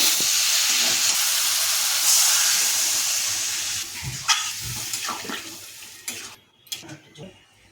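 Water poured onto fried spiced aubergine and potato bursts into a loud, steady hiss of steam that gradually fades into scattered bubbling and a few clinks.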